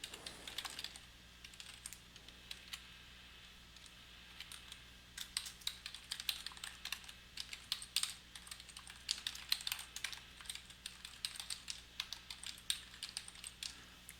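Someone types an email address and password on a computer keyboard, with quick irregular clusters of soft key clicks, close and quiet, with a brief pause near the start.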